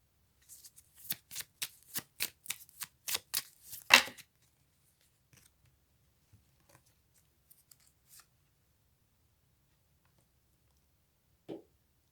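Tarot cards are shuffled in quick riffling bursts, about a dozen crisp rapid flutters over four seconds, followed by a long quiet stretch with faint scattered clicks and one short sound near the end.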